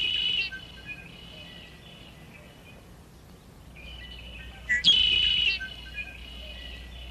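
A red-winged blackbird in a grassland by a freshwater pond gives a few clear, ringing calls with quiet gaps between them, heard alone against faint outdoor background.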